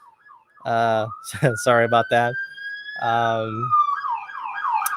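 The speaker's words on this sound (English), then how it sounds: "You're hearing sirens and stuff." A wailing emergency siren sweeps up and down in the distance outside an open window while a person speaks briefly over it.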